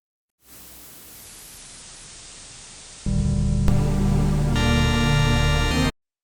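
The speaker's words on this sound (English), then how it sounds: "I incorporated a type of white noise known as AC Hum 1" A hissing AC hum white noise bed fades in, then a dense buzzing synth pad made in Serum layers on top, loud and sustained before cutting off abruptly.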